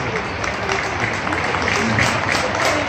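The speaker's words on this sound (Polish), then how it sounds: "Wielkie brawa!" Crowd applause in the stands at a speedway memorial meeting in Wrocław, a steady dense wash of clapping with mixed voices running through the whole stretch.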